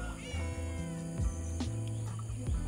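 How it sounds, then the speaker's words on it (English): A cat meows repeatedly in drawn-out, wavering cries close by, several long yowls rising and falling in pitch with no talking over them. "That's that cat making that noise."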